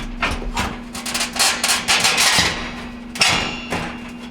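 A metal bottom plate being set back into a GE oven during an igniter repair: clanking, scraping and thumping of sheet metal, close and fairly loud, over a steady low hum, with a sharper knock near the end.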